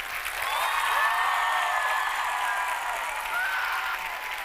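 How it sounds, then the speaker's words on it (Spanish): Theatre audience applause for the cast of a show at the Teatro Ópera, a steady dense wash of clapping with whistles and cheers rising above it, continuing at even loudness for several seconds. "un aplauso enorme para este elenco"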